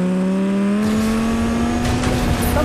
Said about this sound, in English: I can't hear anybody because the car is so loud.